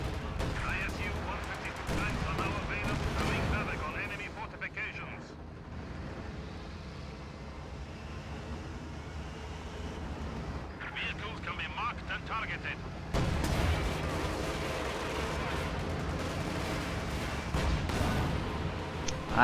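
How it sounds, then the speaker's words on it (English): WWII tank battle in a multiplayer video game, with an ISU and SU-85 firing on a Panther: continuous rumbling gunfire and heavy cannon blasts, loud and dense throughout, with a sharper burst of fire near the end, under a commentator's voice. "ISU taking big shots on that Panther"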